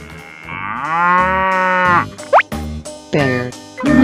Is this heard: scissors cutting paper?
no